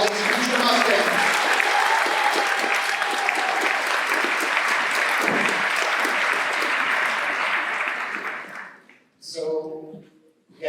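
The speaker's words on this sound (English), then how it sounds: "let's give a round of applause one more time to all these future Mustangs" Applause from a school Class Day audience honoring incoming kindergarten students, a dense steady roar of many hands lasting about eight seconds before fading out, followed by a brief voice.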